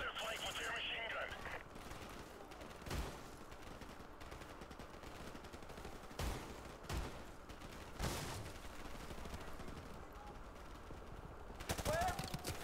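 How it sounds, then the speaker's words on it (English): Call of Duty 4 machine gun fire crackles at a moderate distance, with repeated bursts and sharp single cracks spread through a busy battlefield din. "Hit their flank with their machine gun."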